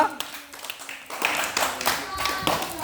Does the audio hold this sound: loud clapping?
yes